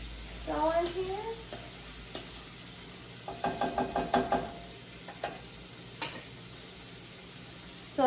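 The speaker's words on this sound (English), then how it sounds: "So I'm just going to give it a quick stir before I go in here." Food frying in a pan, part of a flank steak, cabbage and bacon dish, is given a quick stir: a steady sizzle runs throughout, with a short series of scraping stirring strokes in the middle.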